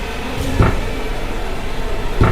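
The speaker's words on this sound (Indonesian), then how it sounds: "terdengar ketukan lagi dari arah pintu depanku." Knocking on a front door in a radio horror drama: two dull, heavy thuds spaced well apart over a constant low rumbling background hum, with no voices.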